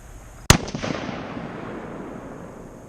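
A single sharp, loud shot from a deer tracking rifle fired at a target about 50 yards away outdoors, followed by a fading echo that rolls over the next couple of seconds.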